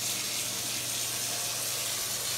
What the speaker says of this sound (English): run the water and show you the different settings of the shower panel